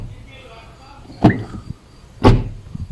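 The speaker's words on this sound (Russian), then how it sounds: "И сейчас послушаем, как закрываются у нас двери." Two Volkswagen Jetta doors fitted with new door stops shut one after another, each a muffled, solid thump about a second apart, heard close in a quiet setting.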